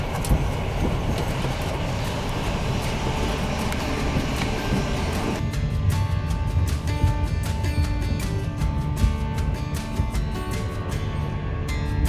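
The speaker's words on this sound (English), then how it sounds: "So we're on the train from Kraków to Zakopane." Train interior on the ride from Kraków to Zakopane, Poland: a steady rumbling drone of the carriage rolling along, then a shift to a clearer running hum with faint rhythmic clicks, no voices.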